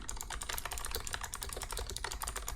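Computer keyboard clicking in a quick, dense run of light keystrokes at close range, steady throughout with no speech.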